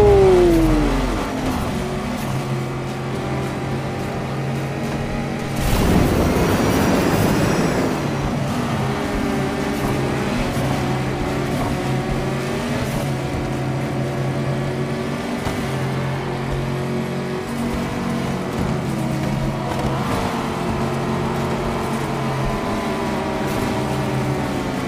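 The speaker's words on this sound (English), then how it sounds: "We are ready for the race with the Bone Shaker Special in the reckless driving." The Hot Wheels Bone Shaker Special racing in Hot Wheels Unleashed, its game engine revving and droning continuously with shifting pitch, a burst of louder roar early, under a steady backing soundtrack.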